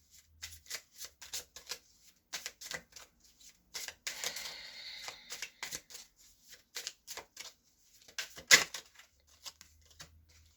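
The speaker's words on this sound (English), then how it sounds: "Let's pull one last card." A tarot deck being handled as a card is drawn: quick, crisp papery riffles and flicks in short bursts, close and fairly quiet.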